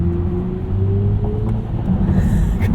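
A 2022 BMW iX xDrive50 electric SUV accelerating on a night drive, heard from inside as a loud steady road rumble with a faint rising electric whine, no engine roar.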